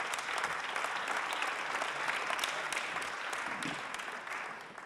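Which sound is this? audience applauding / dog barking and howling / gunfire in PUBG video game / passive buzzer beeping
audience applauding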